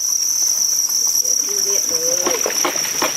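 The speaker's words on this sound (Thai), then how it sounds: "โอ้เยอะแยะเลยนะครับจิ้งหรีด" Many farmed crickets in a village cricket-rearing group chirp in a loud, continuous high-pitched trill, close by, with someone talking faintly underneath.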